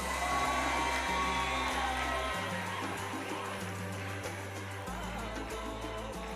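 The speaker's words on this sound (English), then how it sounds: "let's give them a big round of applause" An audience cheering and whooping at a skills competition closing ceremony, a dense, steady crowd roar with shouts rising over it, loud and sustained, with a low droning hum underneath.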